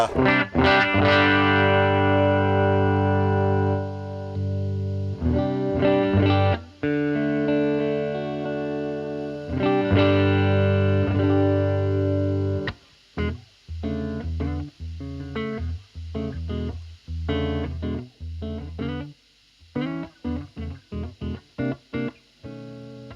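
Electric guitar played through an amplifier on its clean normal channel in high mode, loud and sustained chords ringing out, then shorter choppy strummed and picked passages with brief gaps, alone with no voices.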